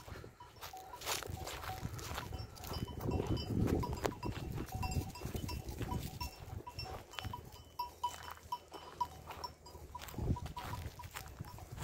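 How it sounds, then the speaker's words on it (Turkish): A startled flock of sheep scatters nearby, with clattering hooves, rustling movement and scattered bleats, while steady bell tones ring through the continuous herd noise. "Koyunlar ürküyorlar."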